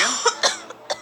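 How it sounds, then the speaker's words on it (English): A woman coughs in a video game: three or four quick, raspy coughs in close succession, loud and close over a faint low hum. "she can't stop coughing."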